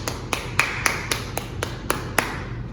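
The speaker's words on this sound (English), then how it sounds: "Let's everybody clap for Samuel and Nahum." Eight or so crisp hand claps at a steady, even pace in a virtual class, sounding sparse and close to the microphone as if picked up over a video call.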